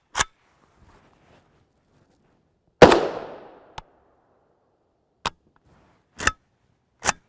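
Sharp gunshots from an M92 PAP short-barreled rifle firing 7.62x39mm 62-grain FMJ, a few spaced single reports, one with a long ringing echo tail, no talk.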